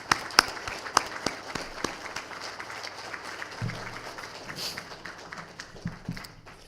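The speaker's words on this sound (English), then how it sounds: "I would like to just applaud my mother" Scattered clapping from a small group at a memorial, a few sharp individual claps at first, then a thin, uneven patter of applause.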